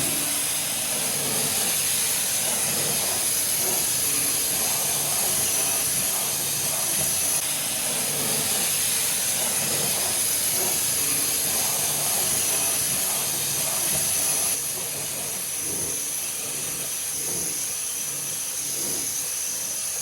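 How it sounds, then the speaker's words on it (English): Undercarriage cleaner spraying beneath a Sierra Cosworth: a continuous loud hiss of pressurized water with an underlying mechanical whine, close and steady throughout, with a slight drop in intensity partway through. "This is your undercarriage cleaner."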